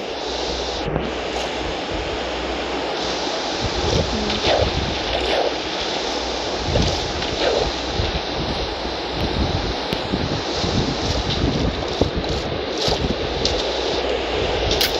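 Steady ocean waves and wind in the Minecraft video game form a loud, continuous broadband rush with no breaks, heard alone without talk.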